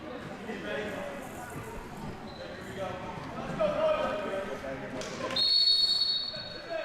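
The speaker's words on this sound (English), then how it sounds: "just waiting for the whistle to get us going" A referee's whistle sounds at the kickoff of a Lansing City versus Innovation City futsal match at Lansing City Arena, a loud sustained shrill blast near the end, set against an indoor crowd murmur and commentary.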